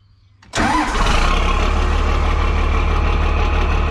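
A Fendt Favorit 818 Turbomatik tractor engine cranks and catches after a moment of near silence, then settles into a loud, steady diesel idle that rumbles on close by.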